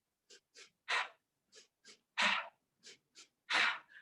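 A group of people draws breath together on cue, several short airy inhalations with a few longer, louder gasps spaced across the moment, with no talking.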